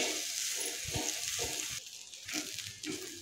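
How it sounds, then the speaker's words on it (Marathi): Onion frying in a pan over a medium-to-high flame until golden brown gives off a steady, fairly soft hiss, broken by occasional stirring scrapes, with no voices. "तर आता हे कांदाही आहे ना तो आपल्याला थोडासा गोल्डन ब्राऊन होईपर्यंत परतून घ्यायचा आहे।"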